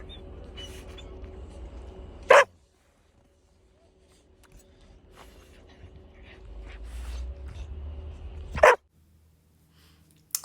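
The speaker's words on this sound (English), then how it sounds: "Sorry about the crying noise. That's my puppy." A puppy gives two sharp, loud barks several seconds apart, with faint whimpering in between, set against low room noise and a game's background sounds.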